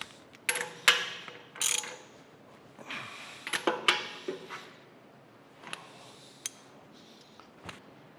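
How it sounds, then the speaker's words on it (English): Ratchet clicks and metal clanks from bolting down crankshaft parts on a steam stoker engine, coming as scattered bursts of sharp, close clicking and knocks with quieter gaps between them. "I'm going to go ahead and bolt it all down just like it'll go"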